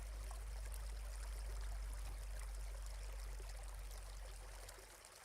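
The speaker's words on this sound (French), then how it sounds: "Un clapotis sur l'eau" Gentle water moving steadily, a soft continuous trickling and lapping with a low rumble underneath, close and even throughout before easing slightly at the end.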